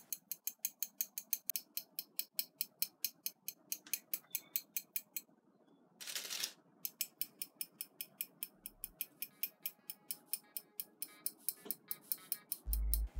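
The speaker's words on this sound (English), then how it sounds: "training to recognise the sound of the feeding tongs clicking together." Metal snake feeding tongs, used for a corn snake, click together over and over in a steady fast rhythm, sharp and close, with a brief rustle partway through and a low thump near the end; no talking.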